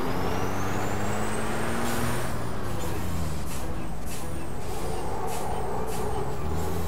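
A truck's air brake in the Formula Truck Simulator 2013 video game releases a loud, steady hiss over a droning engine rumble, with faint repeating electronic tones sweeping over it.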